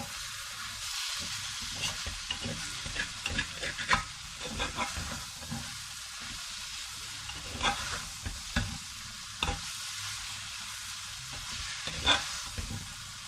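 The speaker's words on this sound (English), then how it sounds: "And give it a fine stir." Salted sabudana khichdi being stirred in a pan, with a soft steady sizzle beneath repeated scraping strokes of the spoon at an irregular rhythm, close and moderately quiet, with no talk.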